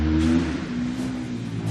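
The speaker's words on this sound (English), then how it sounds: "I hope you can hear me over the noise of the motorcycles next door" Motorcycles revving next door, a mid-pitched engine drone with a brief rev near the start that settles into a steady idle-like hum, slightly muffled by distance.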